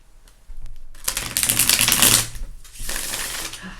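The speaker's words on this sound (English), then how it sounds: "Let's see if I can shuffle these." Tarot cards shuffled by hand in a dense, rustling riffle lasting a few seconds, close and moderately loud with a brief pause partway through.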